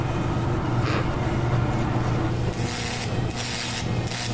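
Welding on a metal plate in a training shop: a steady low hum runs throughout, then bright, crackling hiss bursts in from midway, cutting out and restarting several times.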